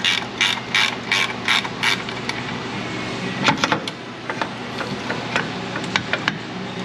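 A wrench works a hot nut loose on a 1995 Jeep Wrangler 4.0, giving steady close ratchet clicks and then scattered metallic ticks and rubs, with no talk.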